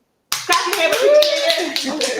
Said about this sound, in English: So clap your hands.